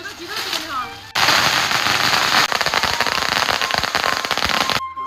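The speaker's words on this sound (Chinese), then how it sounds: "新车到家必须得放鞭炮" A long string of firecrackers set off to welcome a newly bought car at a rural home, starting with a sharp burst and then rattling into rapid, dense, loud crackling bangs, with voices briefly heard before it starts.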